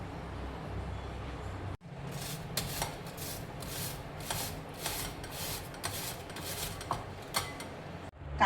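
Cucumber rubs against a hand grater in repeated rasping strokes, roughly one every half second, close and moderately loud, broken by a brief pause near the start and another at the end.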